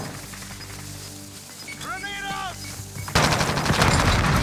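Gunfire in Call of Duty: Modern Warfare, a rapid burst of automatic shots that erupts loudly near the end after quieter game sounds and a short tonal effect.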